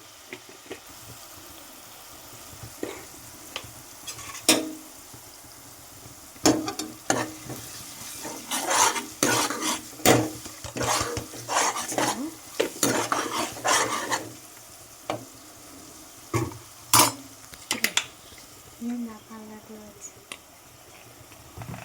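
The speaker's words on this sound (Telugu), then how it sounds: "అల్లం పేస్ట్ వేసుకొని ఇలా కలుపుకోవాలి పచ్చి వాసన పోయిందాక" A spoon stirs ginger paste around a pan in irregular scraping strokes, with a soft sizzle of frying underneath and some quiet speech at times.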